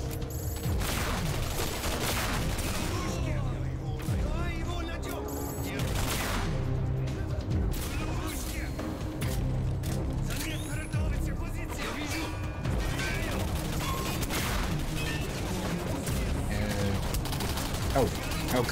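Weapon fire from the video game Singularity rings out steadily and loud throughout, dense bursts of shots and impacts layered over game noise, with a voice talking at times.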